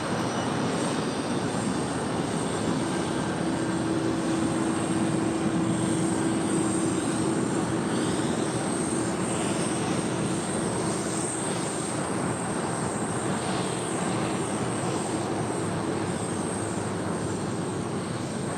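An airliner taxiing at LAX, a steady loud roar of jet engines holding level for the whole stretch, with a faint whine over it and no voices.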